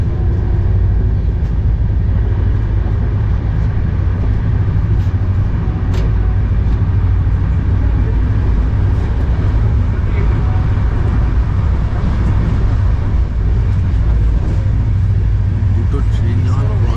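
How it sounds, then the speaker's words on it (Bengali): Two trains pass each other at speed on a Gatiman Express run from Hazrat Nizamuddin toward Agra, heard from onboard as a loud, continuous low roar and rattle under someone speaking. "দুটো ট্রেন যখন ক্রস করছে না, মানে সেকেন্ডের মধ্যে বেরিয়ে যাচ্ছে।"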